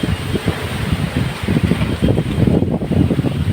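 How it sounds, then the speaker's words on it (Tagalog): Strong mountain wind roars and buffets a microphone in loud, gusty bursts, rising and falling continuously with low rumbling blasts and no voices. "Grabe lakas ng hangin dito sa amin, no?"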